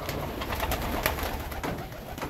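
Several fancy pigeons coo steadily close by in an aviary, their soft throaty calls overlapping with a rustling, busy background of birds moving about.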